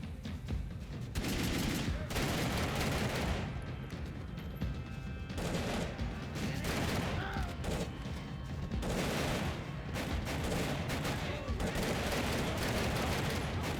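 Rapid bursts of pistol gunfire ring out in modded Max Payne 3, loud repeated shots in clustered volleys with short pauses between, over game ambience.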